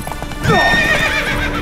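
Horse hooves clip-clop and a horse neighs in The Witcher 3 video game, a loud whinny sweeping down then rising and trailing off over steady hoofbeats.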